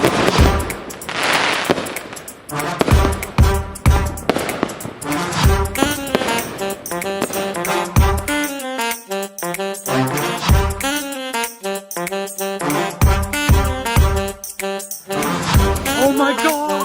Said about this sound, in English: Right now their fireworks going off.